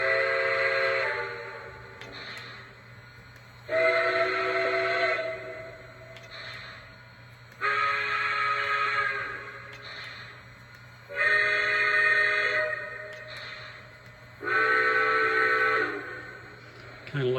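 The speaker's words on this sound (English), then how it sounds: "here are the 5 whistle sounds" A New York Central Dreyfuss J3 Hudson steam locomotive whistle, number 5447, sounds five separate chime blasts of roughly two seconds each, loud and close, with short quiet gaps between them over a steady low hum.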